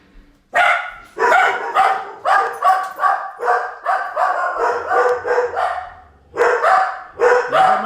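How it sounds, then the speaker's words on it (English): Several dogs bark repeatedly and loudly at close range in a home kitchen, in rapid overlapping bursts with a short pause before a final flurry. "mind the dogs. They're my best friends."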